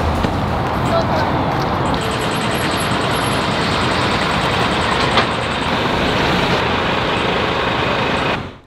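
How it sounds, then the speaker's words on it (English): Steady roar of traffic from a busy, high-traffic road close by, a continuous wash of engine and tyre noise with vehicles passing, loud and unbroken throughout, no voices. "the unwanted traffic noise is not so bad"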